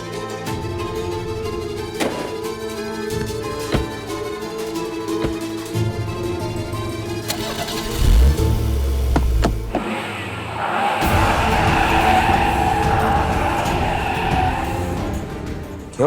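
A car engine is cranked and turned over at night, with a deep rumbling burst part way through followed by a steady running drone, heard fairly close and alone without talk.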